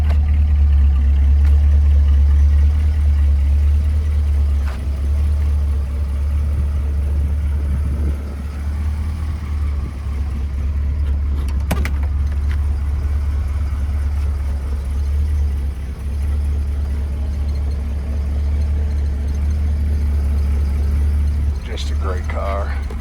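A 1970 Shelby GT500 with a 428 Cobra Jet Ram Air engine and four-speed idles with a steady, deep, close rumble throughout, under light background noise, with faint people talking.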